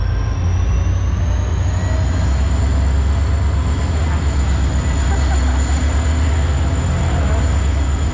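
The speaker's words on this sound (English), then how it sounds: "we can hear a train pulling in somewhere. Oh, this is more of a freight train." A CSX freight train rolls past nearby, a loud continuous rumble of wheels on rails with a faint high metallic squeal running through it.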